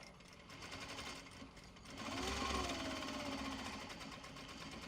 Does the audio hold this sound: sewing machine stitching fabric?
yes